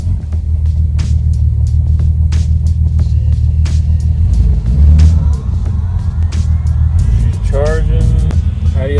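A 1960 Jaguar MK2 engine idling on choke, a steady low rumble up close, with a brief rise in the middle and a faint voice near the end.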